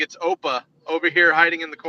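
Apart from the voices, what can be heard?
None of the usual background noises is heard.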